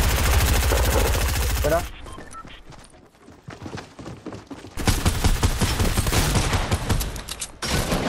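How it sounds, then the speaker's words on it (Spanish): Rapid bursts of gunfire in the video game Fortnite, a dense volley at the start, then scattered sharp shots and another loud sustained burst, with a voice talking in between. "cuatro tiros he tenido que dar"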